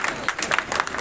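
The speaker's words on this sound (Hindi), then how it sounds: "हमारे सभी बच्चों को जोरदार तालियां अपने लिए बजाइए" A crowd claps for children at an award ceremony held by a computer institute, a brief burst of dense, fairly distant applause with uneven slaps.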